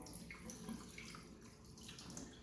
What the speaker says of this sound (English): All I do just under the sink, I pour the water out